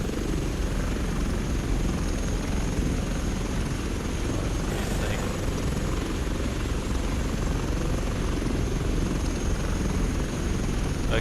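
An H145 helicopter in Microsoft Flight Simulator flies with a loud, steady rotor and turbine drone that continues unbroken throughout, with a faint high whine on top.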